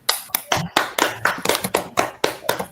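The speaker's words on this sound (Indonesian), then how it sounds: "berikan tepuk tangan untuk kita semua" Classroom applause from students and teacher: a few seconds of sharp, rhythmic clapping in distinct bursts, close and fairly loud, with no talking over it.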